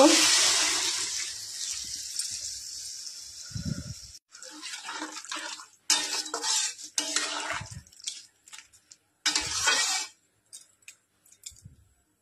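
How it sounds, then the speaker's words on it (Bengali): Warm water poured into a cooking pot begins as a steady splashing stream that thins out into scattered clinks and trickles of water, close by, with no talk. "জল দিয়ে দেবো উষ্ণ।"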